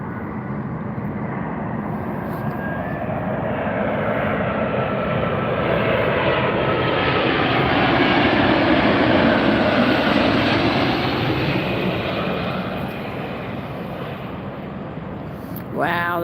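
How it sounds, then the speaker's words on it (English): A Virgin Atlantic Airbus A350-1000 arriving from London lands at Las Vegas airport. Its loud, continuous jet roar swells toward a peak midway, then slowly eases off. "You're just about to see the Virgin Atlantic A350-1000 coming in from London."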